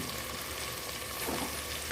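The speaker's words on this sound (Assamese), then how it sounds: "ল' টু হাই ফ্লেমত 5 মিনিটমান মই আলুৰ লগত মাংসখিনি ভাজি কৰি থাকিম" Goat mutton and cut potatoes fry in oil inside a pressure cooker over a high flame, giving a steady, close sizzle with no talking.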